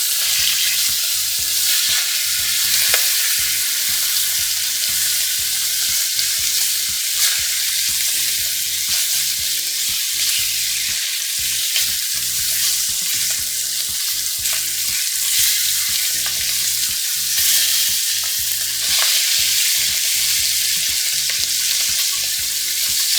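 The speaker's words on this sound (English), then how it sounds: "You're not trying to cook it, you're just trying to get a nice sear on it." Beef short ribs sear in a hot pan with a loud, continuous sizzle that stays steady and close throughout, with faint crackles and no talking.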